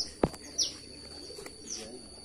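Two caged birds under a cloth cover give a few brief, high chirps, with a sharp knock early on, all fairly quiet over low background noise.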